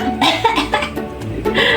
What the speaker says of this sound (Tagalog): ayoko inuubo ako